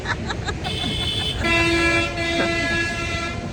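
A train rumbles along the rails at a railway station as its horn sounds in several long, tonal toots, with faint voices in the background.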